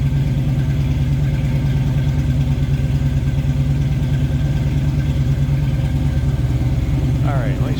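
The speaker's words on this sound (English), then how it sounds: "A little rumble coming out of that V8." The V8 of a 1966 Ford Mustang Coupe idles with a steady, low rumble that holds even and continuous throughout, heard close up from the rear of the car.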